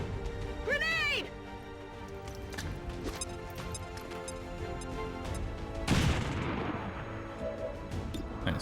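Game combat from XCOM 2: a grenade blast that sends a broad, loud burst crashing through the mix near the six-second mark, amid scattered gunfire cracks, synthetic whooshes and game music, with a player's voice talking over it.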